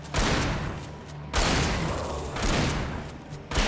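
Heavy shotgun blasts in the Alan Wake video game, two loud booming shots about a second apart followed by a rolling tail, with no voices.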